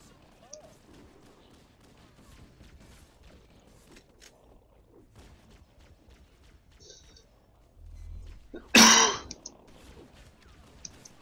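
A single sharp cough bursts out close to the microphone during a Halo: Combat Evolved speedrun, loud and brief against quiet game sounds with light background noise.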